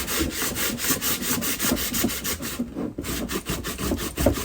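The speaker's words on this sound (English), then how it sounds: "I'm actually running the drill in reverse again just to be sure." A handheld drill running in reverse deburrs a cut shower part, a steady close grinding, rasping buzz with rapid rhythmic scraping pulses that continues throughout without talk.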